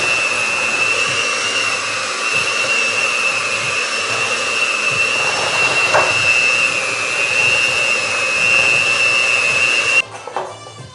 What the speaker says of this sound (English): We're gonna take our mixer and start out on slow.